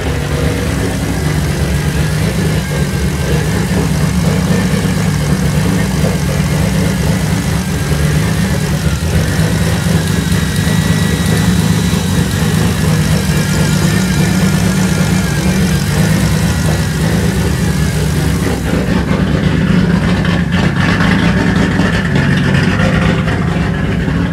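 A turbocharged BMW E46 idles roughly while running lean, a steady loud mid-range engine rumble that holds close and continuous without talk, then turns slightly duller near the end.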